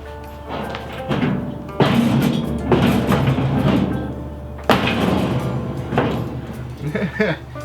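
A metal door on a propane smoker being converted to a stick burner is fitted and shut, giving several heavy thumps and clanks with scraping handling noise between them, close and loud.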